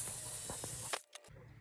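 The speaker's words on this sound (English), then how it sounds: "I went with a black satin paint, and we're going to spray down our legs." Black satin Rust-Oleum spray paint hisses from an aerosol can onto metal planter box legs, a steady close spray that cuts off abruptly, followed by a couple of short bursts.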